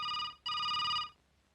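A telephone bell rings in two loud, close bursts separated by a short gap, then falls silent.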